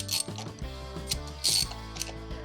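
A ratchet snugs down a bolt on a Harley engine during a flat tracker build, a few quick clicking strokes up close, fairly quiet, with brief bursts of sharper ratcheting.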